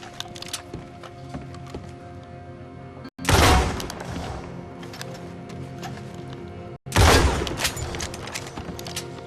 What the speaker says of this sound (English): Hopefully those gunshots won't attract any attention